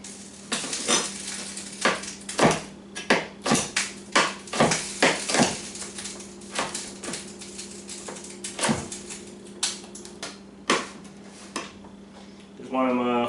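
A knife chops a vegetable into roughly half-inch cubes on a cutting board for a rotini pasta salad, a steady run of sharp, close knocks with uneven rhythm and no talk.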